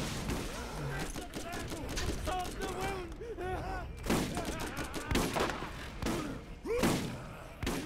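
SMG gunfire in the video game Monday Night Combat, heard as rapid bursts of shots among loud game effects, with people talking over the action throughout.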